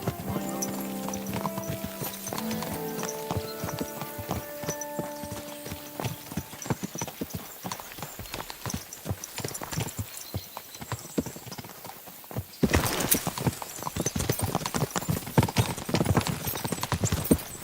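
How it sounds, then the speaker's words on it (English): Steady horse hooves clip-clopping in the video game Kingdom Come: Deliverance II through the whole stretch, with a sustained musical tone early on and a louder, busier passage of hoofbeats near the end. "Ugliest horse I've seen."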